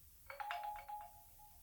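Instagram's 'echo' notification tone sounds once as a faint, bright chime made of quick repeated pulses over a sustained ringing note that fades out, heard alone.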